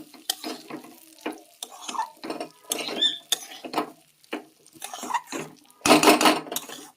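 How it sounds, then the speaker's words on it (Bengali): Polao rice being stirred in a cooking pot, a series of scraping, rustling strokes in an irregular rhythm with a louder, longer sizzling scrape near the end, close and without talk. "দেখো, পোলাওয়ের চালটা দিয়ে দিলাম, একটু নাড়াচাড়া করে নেব।"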